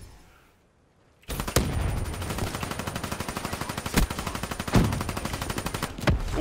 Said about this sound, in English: Hip fire didn't work for me that time.